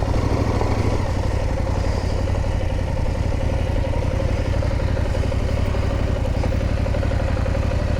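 Adventure motorcycle working through a tight lane, a continuous close engine hum with clattery mechanical texture and a brief lower throttle change near the start.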